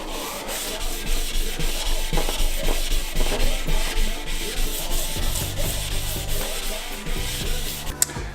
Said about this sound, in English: We are going to wet sand the final coat after we do the 180